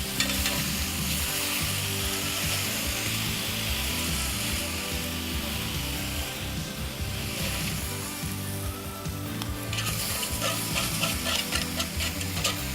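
Moreton Bay bugs sizzling in a hot pan, a steady, close frying crackle lasting throughout with brief scraping and shifting sounds as they are turned.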